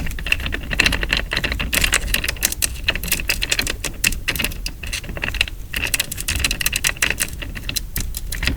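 A loose, rattly fidget board gets worked by hand, producing a dense run of quick, close clicks and small clattering rattles.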